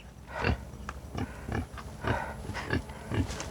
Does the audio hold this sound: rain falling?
no